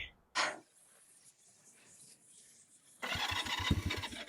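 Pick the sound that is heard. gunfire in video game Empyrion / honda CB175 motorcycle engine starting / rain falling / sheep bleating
honda CB175 motorcycle engine starting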